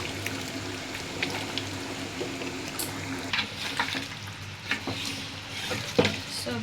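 Small native garlic stir-frying in a pan of oil for an Eid beef curry, giving a steady low sizzle with occasional soft scrapes and clinks of stirring throughout.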